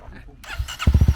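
A dirt bike, a Honda CRF300L or Kawasaki KLX300R, fires up after a short pause, then settles into a loud, close, rapid rhythmic engine thump; voices are heard just before it starts.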